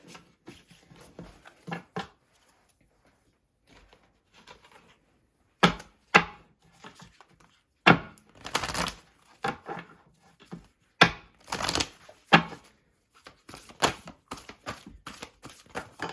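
Moonology oracle cards are handled and shuffled up close, with soft riffling and papery slaps in irregular bursts separated by quiet gaps, some louder flurries toward the end.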